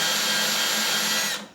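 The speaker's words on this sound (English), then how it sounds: "Let's drill it out again." A power drill whirs steadily at high speed, drilling out metal, for about a second and a half, loud and close, then winds down and stops.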